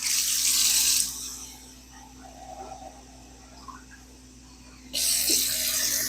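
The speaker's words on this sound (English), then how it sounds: "now we're going to add some of our water into this" Water pours into a blender jug with a bright, steady splashing rush that stops after about a second, then starts again near the end. A low hum runs throughout.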